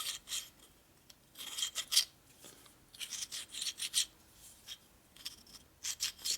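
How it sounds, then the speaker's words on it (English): A hand file rasps across the surface of a 1957 Harley-Davidson panhead cylinder head, giving repeated short strokes in an uneven rhythm, close and fairly quiet with brief pauses between passes. "Just trying to hold the file flat."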